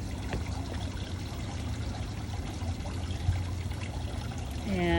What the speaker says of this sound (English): this is all of the salt water that is being pumped out by the emergency pump